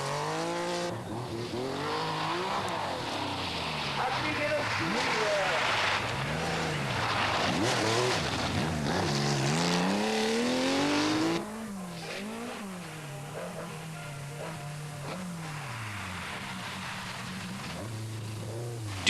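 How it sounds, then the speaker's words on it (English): Porsche rally car driving fast on a stage, engine revving and shifting with rising and falling pitch, tires squealing, loud and close, then dropping to a steadier lower drone as it pulls away. "Sneyers pussyfoots the Porsche to safety"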